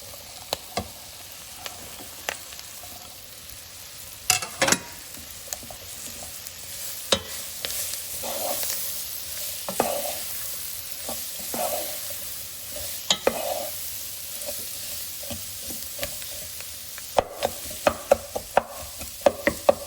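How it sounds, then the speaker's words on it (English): Onion frying in oil with red and green chillies sizzles steadily, with sharp spatula scrapes and taps against the pan recurring throughout, close and unaccompanied by speech. "So now fry this onion until"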